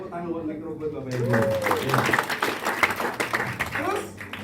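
Seminar audience in Indonesia applauding for a microgrid presentation; scattered clapping rises after a moment and carries on alongside talk and voices from the room.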